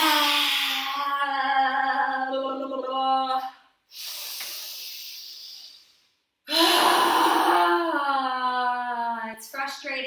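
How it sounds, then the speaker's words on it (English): Deep, audible yoga breathing at home: a long voiced, sigh-like exhale, a brief hissy inhale after a pause, then another loud, drawn-out sighing exhale, all close to the microphone. "Let's do some audible breaths like we did the first day."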